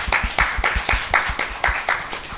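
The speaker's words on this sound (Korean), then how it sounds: "다시 한번 주님 앞에 감사의 박수 올려드립니다." A church congregation claps together in a strong, even rhythm, with loud repeated unison beats close by.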